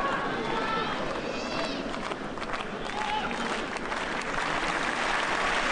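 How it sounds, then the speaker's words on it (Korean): Steady, fairly distant crowd applause fills the stands at the 2007 French Open women's tennis final at Roland Garros, continuing without letup beneath a commentator's voice. "박수가 터지고 있죠"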